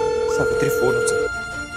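A telephone rings in a domestic drama scene, a steady electronic ring tone running under a tense, pleading voice before cutting off near the end.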